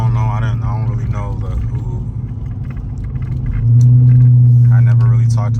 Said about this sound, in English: Let me open the sunroof so y'all can hear the car a little bit more.